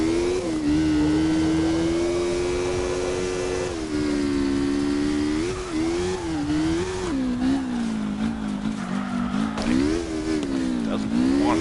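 A drift car in CarX Drift Racing Online holds a loud sustained engine whine with tires screeching as it slides and spins out, pitch dipping and rising with throttle, while someone talks over it.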